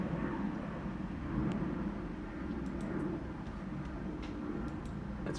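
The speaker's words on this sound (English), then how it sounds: "sorry about the plane." A plane flying overhead as a steady, broad roar of low rumble and noise, continuous and moderately faint, heard from indoors.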